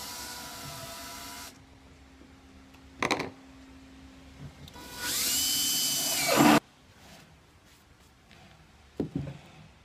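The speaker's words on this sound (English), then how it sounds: "with our 35mm spade bit in our drill, we're going to mark where we're actually going to drill the first hole" A power drill fitted with a 35mm spade bit bores a hole through a Hobie kayak hull, with a short whine, a brief burst and then a long loud grinding run before stopping.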